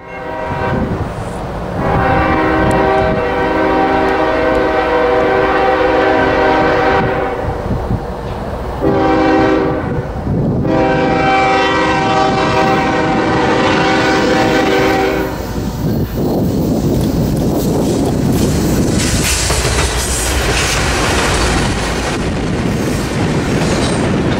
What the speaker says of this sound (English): Norfolk Southern's geometry train was making a northbound run from Jacksonville, Florida